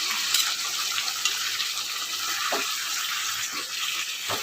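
Water hits a hot pan of masala-stuffed brinjal, setting off a loud, steady sizzle and bubbling hiss with a few faint clinks of stirring, close by and without talk.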